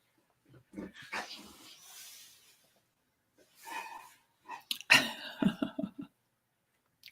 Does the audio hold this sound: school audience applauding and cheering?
no